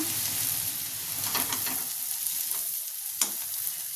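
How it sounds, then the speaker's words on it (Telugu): Chopped beans and carrots frying and being stirred in a hot pan, a steady close sizzle with scraping stir strokes and one sharp clatter, no talking. "ఇలా బాగా ఫ్రై చేసుకోవాలి"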